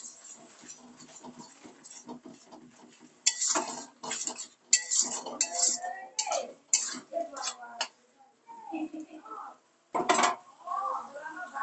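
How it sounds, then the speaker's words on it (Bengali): A utensil clanks and scrapes around a pot while turmeric, chili powder and salt are stirred into oil for a dry chicken dish. The clatter comes in irregular bursts over a faint murmur of voice. "দিয়ে ভালো করে নাড়াচাড়া করবো।"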